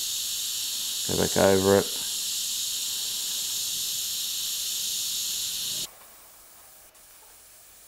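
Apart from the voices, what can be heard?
airbrush spraying paint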